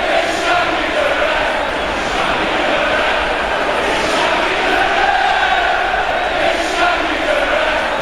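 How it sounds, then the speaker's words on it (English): Arena crowd in a WWE 2K wrestling video game, a loud continuous roar of many voices shouting and jeering at the referee, swelling and falling without a break. "Crowd telling the ref that something's going on here"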